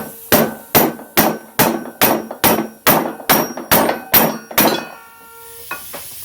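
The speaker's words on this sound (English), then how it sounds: "We're just going to give it a few taps through." A hammer strikes a rear trailing arm from a 2004-2008 Pontiac Grand Prix, twelve sharp metallic clanks in an even rhythm, loud and close, followed by a few fainter clinks as the ringing dies away.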